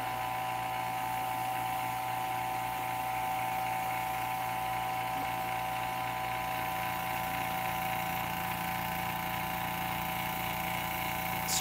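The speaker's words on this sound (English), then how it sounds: "this is a huge vacuum chamber." A vacuum pump laboring to evacuate a huge vacuum chamber in a science classroom, giving a steady, continuous mechanical drone with constant tonal hum throughout, no speech over it.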